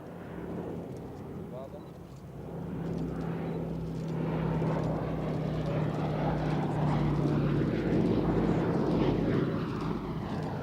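A B-17 Flying Fortress's propeller engines drone at an RAF Cosford airshow, swelling gradually louder and holding a steady rumble, beneath a commentator talking throughout.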